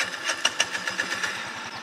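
A scooter engine, found in a forest in a horror game, runs with a rapid, steady putter of mid-pitched pulses and a few sharper knocks at the start, close and moderately loud with no voices.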